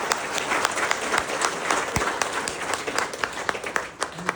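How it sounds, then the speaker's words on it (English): A gathered crowd at the outdoor grand opening of a mountain village residence applauds steadily, with distinct individual claps standing out over the continuous patter. "So let's have a round of applause for that."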